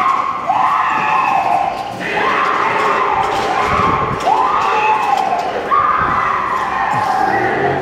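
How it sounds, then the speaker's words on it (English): Women's screams ring out from a parking garage near Disneyland, rising in repeated loud swooping cries over a noisy crowd-filled background. "female screams coming from a parking garage"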